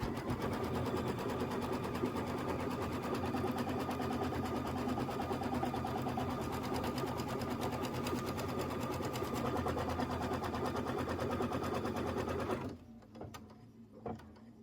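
Embroidery machine stitching the batting placement and tack-down lines for a quilt block, a fast, even mechanical whirring and needle clatter running steadily at close range before stopping near the end, no talk.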